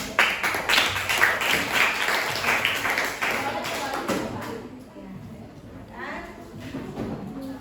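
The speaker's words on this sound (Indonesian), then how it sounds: "terima kasih kepada kelompok 2 yang telah mempresentasikan. Tepuk tangan dong." Students clap for a classroom group that has just finished presenting, a loose patter of hands that starts strong and thins out, with voices chattering over it toward the end.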